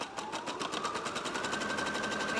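Sewing machine stitching a seam on a Halloween pillow, a steady fast mechanical whir with rapid rhythmic needle pulses running continuously, close and alone.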